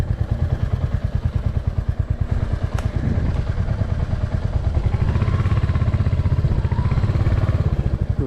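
Royal Enfield Hunter 350 motorcycle on an off-road hill trail, its heavy single-cylinder engine thumping steadily and loudly throughout, with clattering knocks from the bike as it moves over rough ground.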